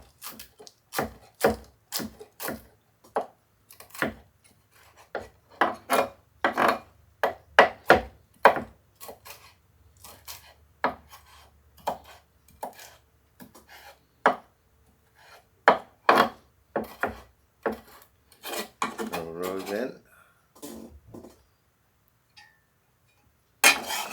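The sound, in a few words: chopping leaves with a knife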